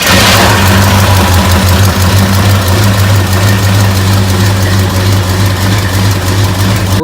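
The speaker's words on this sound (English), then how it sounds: "we're going to start the motor, let the oil kind of work its way around, get warm" A 1954 Ford hot rod engine fires up and settles into a steady, loud, rumbling idle, close by, with a low throbbing tone throughout and no talking.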